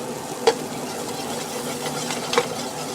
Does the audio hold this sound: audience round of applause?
no